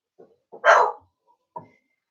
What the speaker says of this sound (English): Well done for barking.